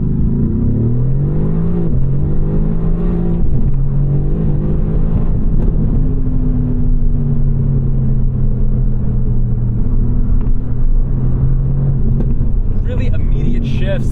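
A 2018 Mercedes-AMG GT R with a dual-clutch gearbox pulls hard, its engine note climbing loudly and close from inside the car, then dropping briefly at a quick shift before rising again.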